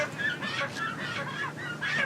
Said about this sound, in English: Buying some chickens.